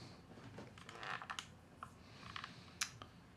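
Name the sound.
typing on an old computer keyboard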